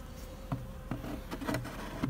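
Honeybees swarming around a hive during a hive transfer: a steady, close insect buzz with a few faint knocks or taps repeating roughly every half second, no talk.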